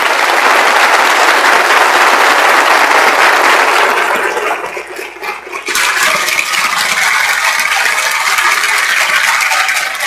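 Sustained applause from an audience after a lecture on prime numbers, a loud dense clatter of many hands that dips briefly midway, then picks back up and carries on steadily.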